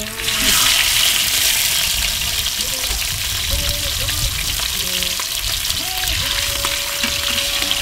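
Mojarra fish frying in hot oil with garlic, a steady loud sizzle and crackle throughout with a few faint clinks, no talking.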